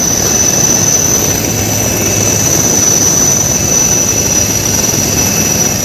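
A rescue helicopter hovering during flooding in Gujarat, its rotor and turbine roar loud, constant and close throughout, with no voices.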